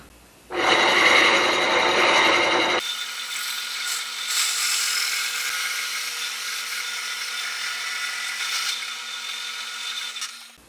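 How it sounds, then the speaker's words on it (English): Hole saw boring into a cedar log, a loud steady grinding whir that starts abruptly, then gives way to a quieter, thinner cutting drone that continues to the end. "I'm going to start with a hole saw"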